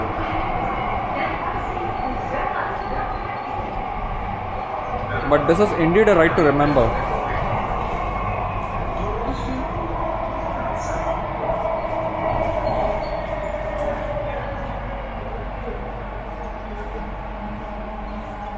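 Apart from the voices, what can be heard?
Mumbai Metro Aqua Line underground train running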